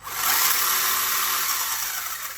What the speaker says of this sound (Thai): ฟังเสียงมอเตอร์นะ